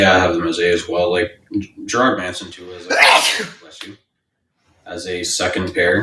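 A single sharp sneeze bursts out in the middle of a casual conversation between people discussing hockey, close and loud, with speech continuing before and after it.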